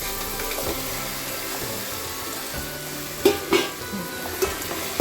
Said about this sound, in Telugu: ఇప్పుడు ఈ చికెన్ ఇందులో వేసేస్తాం.